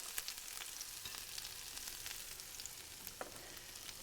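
Rabbit pieces fry briskly in a hot pan, giving a steady, close sizzle and crackle with small spits and pops throughout and no talking.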